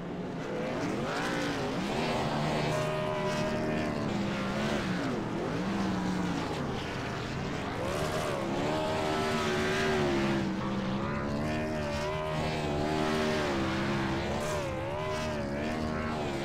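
A race car doing a burnout in the NAVSCAR Pro Series racing game at Charlotte: the engine roars continuously at high revs, pitch wavering up and down as tires squeal and spin, loud and sustained with no talking.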